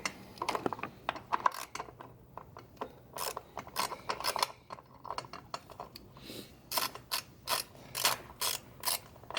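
A ratchet clicks in quick bursts while turning spark plugs on a Jeep Wrangler 3.6L engine, close and fairly quiet, with rapid pawl ticks grouped into repeated short strokes.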